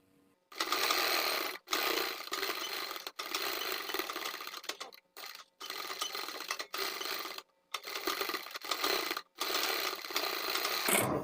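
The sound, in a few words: sewing machine stitching a blouse neckline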